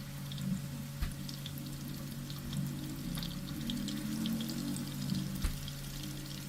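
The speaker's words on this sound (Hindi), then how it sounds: "अब एक एक करके सीख कबाब पैन में रखते जाएंगे" Seekh kebabs fry in hot oil in a pan, giving a faint, steady sizzle with soft crackles and a couple of small pops and taps.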